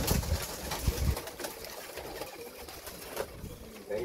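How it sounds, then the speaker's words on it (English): Roller pigeons coo softly and intermittently at close range, low throaty calls mixed with faint rustling and a few light knocks near the start. "My roller pigeons."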